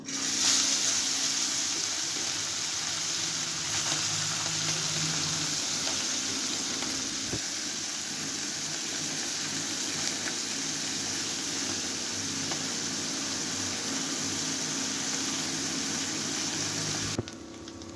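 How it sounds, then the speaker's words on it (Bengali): Fish rubbed with salt and turmeric frying in hot mustard oil in a kadai, a steady broadband sizzle holding evenly throughout with no talking over it, dropping off sharply at the very end. "এবার মাছগুলো আমি তেলের মধ্যে দিয়ে দেবো।"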